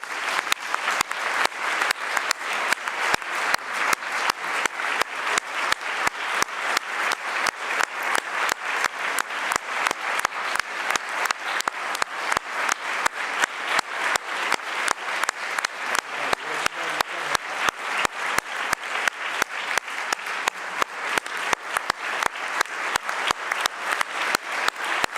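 An audience at a PAHO ceremony applauds to welcome the new Assistant Director, steady sustained clapping from a sizable crowd filling the room without a break for the full stretch.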